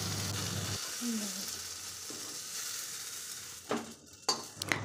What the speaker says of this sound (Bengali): নুন দিয়ে একটু ভালোভাবে ভাজা ভাজা করে নেব।